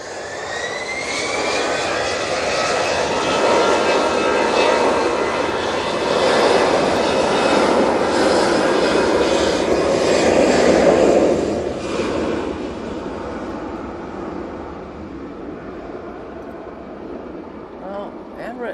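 An Emirates Airbus A380 on approach, its engines producing a heavy, rumbling jet roar that swells gradually toward a peak and then eases off, with a faint high whine on top and people talking over it.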